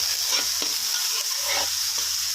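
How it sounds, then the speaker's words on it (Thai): Onion and carrot stir-fry in a hot pan, a continuous close sizzle broken by a few scraping stirs, with no voices. "ผัดให้เขาสุกนะครับ ทั้งหอมหัวใหญ่ และแครอทนะครับ ผัดให้เขาพอสุกพอนุ่มนะครับ"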